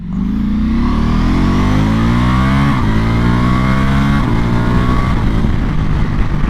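A Ducati Multistrada motorcycle engine revs and climbs steadily in pitch, a loud, continuous drone that rises and shifts through gears with no voices.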